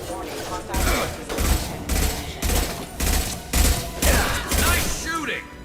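Gunfire in the PC game Mass Effect 2 comes as loud, evenly spaced bursts of rapid shots, about eight volleys with short pauses between them.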